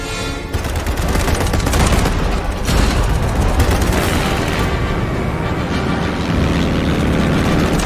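Frag grenade blast amid heavy gunfire in a first-person shooter game, a loud, dense and continuous barrage of shots and booms that sits close and never lets up.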